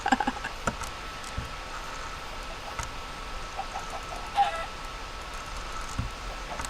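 Chicken clucking in a Minecraft-style video game world with villagers, a few short faint clucks scattered over steady game background ambience, with no talk.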